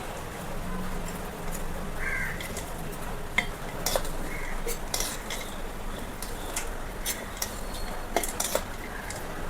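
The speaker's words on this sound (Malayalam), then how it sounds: "ഇളക്കി കൊടുക്കാം." Chicken curry being stirred into rice, with scattered light clinks and scrapes of a spoon against a dish over a soft background, and a few sharp bird-like calls in the distance.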